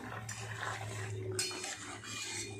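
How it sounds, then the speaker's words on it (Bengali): A metal lid lifted off a pot of simmered ridge gourd, potato and pointed gourd, a quiet clatter and scrape of metal with a soft ring, close by and with no talking. "ঢাকাটা খুলে দেখবো কেমন হয়।"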